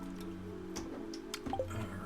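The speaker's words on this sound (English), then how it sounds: "Take the swig of water" Drinking a swig of water in Stardew Valley, heard as a few soft wet squishy and drippy gulps over a steady tonal game background hum, short and fairly quiet.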